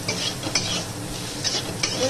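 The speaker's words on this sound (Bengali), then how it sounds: "মোটামুটি আমার উচ্ছেটা ভাজাই হয়ে এসছে" Bitter gourd sizzles steadily in a hot pan while a utensil stirs and scrapes it in short strokes.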